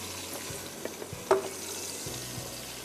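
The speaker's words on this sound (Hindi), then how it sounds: "फिर मैंने चॉप्ड 1 टेबलस्पून अदरक, चॉप्ड 1 टेबलस्पून लहसुन डाला, और उसको एक तेज़ पत्ता डाला और उसको हम फ्राई कर रहे हैं" Red chillies, chopped ginger, chopped garlic and a bay leaf frying in oil for a mince stew, a soft steady sizzle with faint stirring clicks and one brief sharper clatter, fairly quiet and close.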